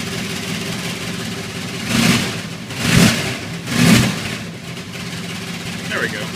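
A car engine idles steadily with a low hum, then revs up three times in short, evenly spaced bursts before settling back to idle.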